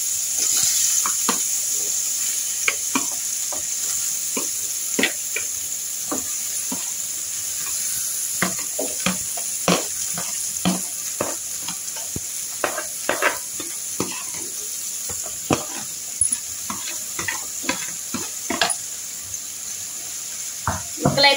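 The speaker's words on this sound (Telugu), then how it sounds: "దీంట్లోకి పొట్లకాయ ముక్కలు అయితే వేసేద్దాం" Chopped snake gourd pieces sizzle in hot oil with green chillies in a home kitchen pan, a steady close frying hiss broken by frequent scraping stirs and clicks of a spatula.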